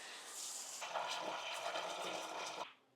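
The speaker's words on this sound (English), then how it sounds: "So over to the tap, fill up with hot water." Hot tap water runs into a Pinter homebrew keg fitted with its purifier, a steady close gush of filling that carries on for a few seconds before stopping abruptly.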